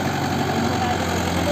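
Mahindra 575 4x4 tractor engine idling nearby in a potato field, a steady low diesel rumble with an even knock, continuous and fairly loud throughout.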